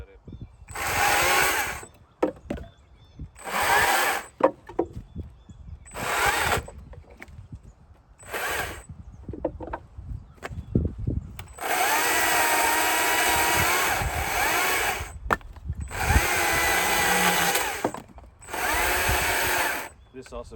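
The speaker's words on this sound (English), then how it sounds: "Up against the saw is probably the safest way to cut it." A saw cuts limbwood firewood on a saw buck, running in separate loud bursts of a few seconds each with short quiet gaps, then longer sustained cuts.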